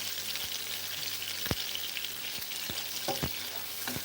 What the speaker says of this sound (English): So that is why I'm sauteing the onion.